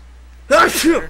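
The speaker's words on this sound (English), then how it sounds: "A little. Sneeze." A single sharp sneeze bursts out after a moment of quiet, close and fairly loud.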